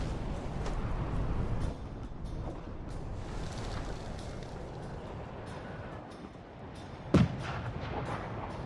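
A deep, sustained rumble fills a video game match, with a sharp boom from a bomb going off near the end, loud and close, without voices.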